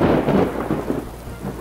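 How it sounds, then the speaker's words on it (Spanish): A thunderstorm with steady rain and deep rolling thunder rumbles loudly and close, with a dense wash of rainfall and no talk. "¡Oh, no! No podremos salir a caminar con esta tormenta."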